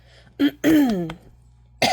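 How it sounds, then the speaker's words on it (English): A few sharp coughs, close by and fairly loud, with a short pause between them and a final cough after a gap. "I had to cough."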